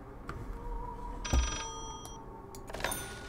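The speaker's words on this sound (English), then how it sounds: "We had to ring a different phone." A telephone rings in the horror video game Layers of Fear: a brief electronic ring near the middle and another toward the end, over a low, murky ambient hum with no talking.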